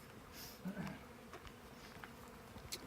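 Honeybees around a newly installed hive: a faint, low buzz swelling briefly near the start, with scattered soft rustles and small ticks in a quiet outdoor setting.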